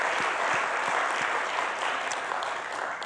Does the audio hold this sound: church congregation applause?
yes